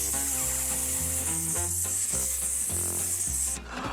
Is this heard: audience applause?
no